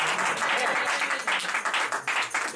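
Church congregation at a Sunday service applauding and cheering in praise, a dense continuous wash of clapping with voices mixed in throughout, fairly loud and steady.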